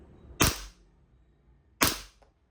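Army Armament R501 airsoft pistol, a long-barreled model, fires two sharp, loud shots about 1.4 seconds apart, each a crisp crack with a short decay and quiet between.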